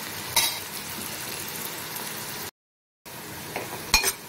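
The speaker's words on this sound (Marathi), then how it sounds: "तर कांदा आपल्याला अगदी गुलाबी होईपर्यंत भाजून घ्यायचा आहे।" Chopped onion frying in a pan for a Maharashtrian prawn masala curry, a steady close sizzle broken by a few sharp clinks and scrapes of a stirring spoon, with a brief gap of silence midway.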